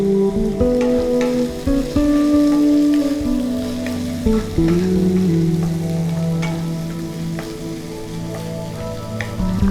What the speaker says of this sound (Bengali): আদার কাঁচা গন্ধটা চলে যাওয়া পর্যন্ত ভালো করে কষিয়ে নিলাম।